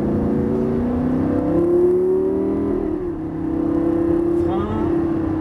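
A 530 hp Lamborghini Gallardo engine revs and accelerates on a race track, its pitch rising and falling loudly and steadily.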